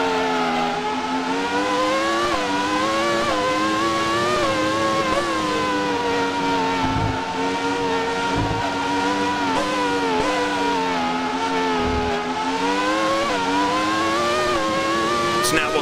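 A race car engine from the Grand Prix 2 sound samples screams at high revs in Automobilista, a loud sustained whine rising and falling through gear changes, with someone talking over it.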